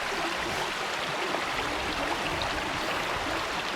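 A river flows through outdoor woodland, its water a soft, steady rush heard faintly and continuously with no talking over it.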